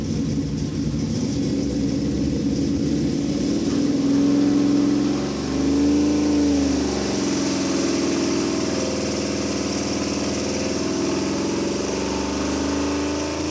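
A carbureted engine fitted with a modified Holley 600 CFM carburetor runs on 93 octane with a loud, steady rumble, its note briefly rising and wavering as the revs swell around the middle before settling back to a constant drone.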